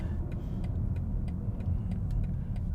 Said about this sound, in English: I can hear a bit of downshifting in the background, not super loud at the moment.